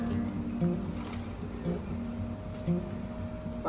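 A tiling sponge is rinsed in a bucket of water while cleaning grout haze from tiles, giving soft, close sloshing and dripping water under a low steady background.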